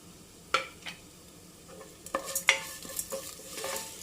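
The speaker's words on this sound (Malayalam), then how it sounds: "ഇനി നല്ലതുപോലെ ഒന്ന് വഴറ്റി എടുക്കണം." Black pepper and cumin sautéing in a pan for pepper chicken, a soft steady sizzle broken by several sharp scrapes and clinks of a spoon stirring against the pan.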